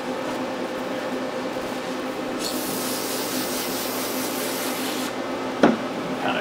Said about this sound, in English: So wipe out the bore.